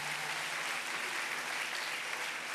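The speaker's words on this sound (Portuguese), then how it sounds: "Aplauda o Senhor Jesus em honra." A church congregation applauds at a conference, a dense, steady wash of clapping filling the space without a break.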